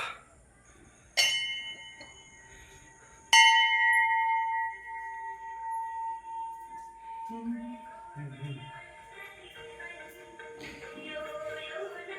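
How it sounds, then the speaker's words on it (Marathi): A temple bell is struck twice, each strike ringing out loud and bright with a long, slowly fading metallic tone, followed by quieter clinks and a voice in the background. "इथे घंटी वाजवतो आता"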